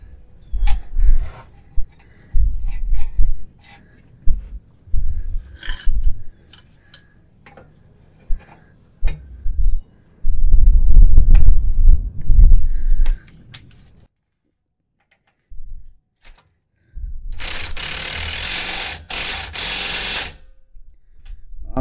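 An impact wrench tightens a shock bolt on a 2014 RAM 2500 diesel during a Bilstein shock install, heard as several loud bursts of rattling hammering separated by pauses and clunks, close up with no talk.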